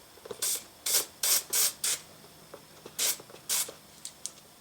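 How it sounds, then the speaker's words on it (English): Remington Bore Bright sprayed over a cup in short aerosol bursts, about eight hisses of varying length with brief pauses between, close and fairly loud, no voices. "I don't want to spray and get it all over my desk"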